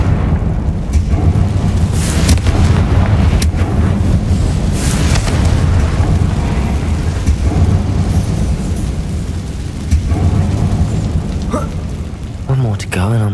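A Confringo fire spell explodes in Hogwarts Legacy, giving a series of booming, crackling bursts over a rumbling game background, with a voice speaking intermittently.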